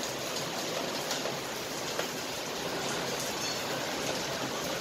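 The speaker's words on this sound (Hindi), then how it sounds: "अभी बारिश हो रही है और पानी भर गया" Steady heavy rain falling in an Indian city yard during a downpour, a dense, unbroken hiss with occasional drip ticks, close and continuous with no voices.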